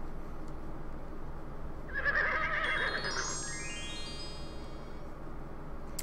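In King's Quest VII, a horse lets out one drawn-out whinny that rises and trails off over a steady ambient game background, with no talk.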